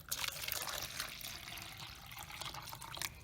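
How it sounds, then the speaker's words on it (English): Water poured into a clear container makes a soft, continuous splashing trickle that stays even and fairly faint from start to finish, with no voices. "we're going to pour some water in it"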